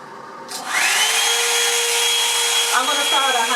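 A Revlon Salon One Step hair dryer and volumizer switches on and runs with a steady, loud broadband whoosh and motor whine, close up, with a brief shift in tone near the end.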